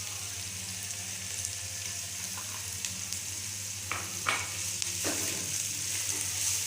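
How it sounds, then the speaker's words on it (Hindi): Sliced cabbage and other vegetables fry in a pan with a steady, bright sizzle, plus a few soft stirring scrapes partway through, close up and without talk. "अब हमने सब्जियों को थोड़ी देर के लिए फ्राई करना है"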